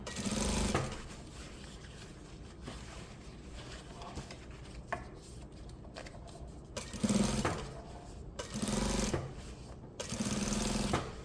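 A sewing machine topstitches 0.2 cm from the edge of a hooded jacket in steady close bursts, with brief louder surges and small handling clicks between runs.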